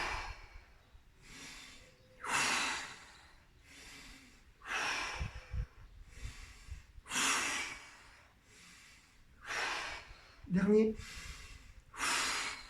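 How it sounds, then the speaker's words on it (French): Rhythmic deep breaths during an abdominal workout: about eight long inhale-exhale cycles, loud and close, each a breathy rush, with one sharp gasping breath near the end and a few spoken words from the instructor. "j'inspire, je relâche tout et je souffle."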